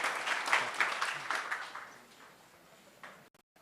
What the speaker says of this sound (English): Give this man a round of applause for his love of the history of this city